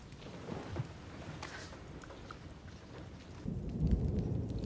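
Steady rain hisses outdoors while a low thunder rumble swells toward the end, moderately faint with no voices.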